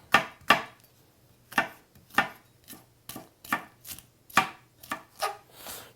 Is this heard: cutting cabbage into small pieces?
yes